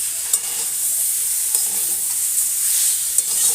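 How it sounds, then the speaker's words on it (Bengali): Jaggery melting in a pan for elephant apple (chalta) pickle is stirred over a steady hissing sizzle, with soft scraping strokes close up and no voices. "এবারে আমি গুড়টা নাড়তে থাকবো।"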